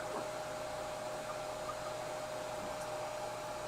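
A hair dryer flash-drying paint on baby bass fishing lures, giving off a steady, even blowing hum with a constant whine for the whole stretch, fairly quiet and with no talk.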